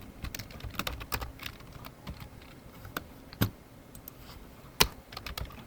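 Fast typing on a computer keyboard while writing SQL code, a close stream of clicking keystrokes with a few louder key strikes, no talk over it.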